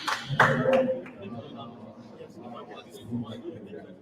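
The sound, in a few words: audience applause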